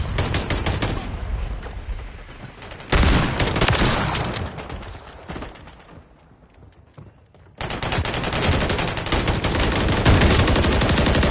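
Rapid video game gunfire fills the clip, dense bursts of automatic shots, loud and close, dropping away briefly before the firing resumes full force.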